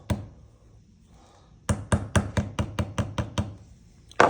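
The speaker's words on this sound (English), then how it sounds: "Now I'm going to peen that over, hopefully," A hammer peens over a pin on an old Camillus Barlow pocketknife handle, giving about ten quick, sharp metallic taps in an even rhythm, close and alone, with one more strike after a short pause.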